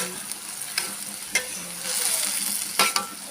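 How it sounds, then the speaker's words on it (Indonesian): Garlic seasoning sizzles in a pan for stir-fried water spinach, a close steady hiss broken by several sharp spatula scrapes and clacks as it is stirred, with no voices. "aku aduk-aduk biar bumbunya merata ya"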